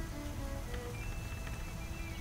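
Rain falls outside a window in a steady, faint patter and hiss, with a few thin tones drifting over it and no voices.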